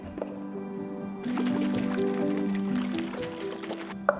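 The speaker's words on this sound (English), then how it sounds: "Cover and shake until emulsified." A covered jar of tahini dressing with sesame oil, cane sugar and black sesame seeds is shaken, giving a wet sloshing and squishing over steady tonal background sound for several seconds.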